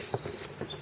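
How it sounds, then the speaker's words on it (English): A few quiet, high bird chirps come through on a trail on Protection Island, faint and somewhat distant over soft outdoor background noise. "The birds, we're following the birds."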